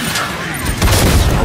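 A rocket blast in the video game Killing Floor 2 lands as a low, rumbling boom that swells midway through, amid a clatter of game gunfire.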